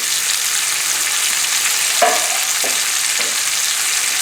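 Anchovies, garlic, fennel and onions sauté in a pan for pasta con le sarde, a loud continuous sizzle with a few brief scraping stirs midway.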